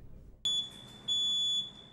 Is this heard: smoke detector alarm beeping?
yes